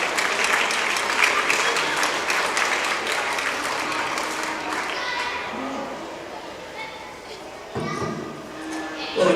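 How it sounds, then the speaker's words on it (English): A county fair crowd applauds 4-H beef show exhibitors: loud, dense clapping that fades off after several seconds, with children's voices and chatter mixing in under and after it. "Let's give them a round of applause."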